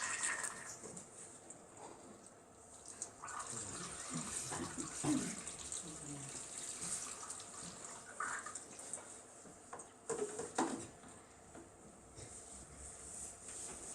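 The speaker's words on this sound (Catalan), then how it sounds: "La regadora representa la pluja que va caient per als diferents rius." Water poured steadily from a watering can, a continuous splashing stream lasting many seconds with small surges, meant to stand in for rain falling onto rivers.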